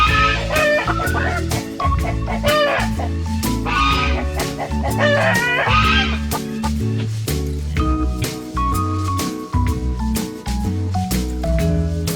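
Backyard chickens and ducks cluck and squawk continuously, with overlapping fowl calls over a busy background throughout.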